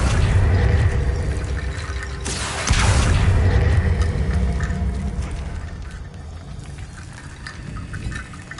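A Hogwarts Legacy Accio spell tugging a platform: a loud rushing whoosh with a low rumbling drag that swells, hits a sharp burst midway, then fades into a softer grinding tail, with no voice.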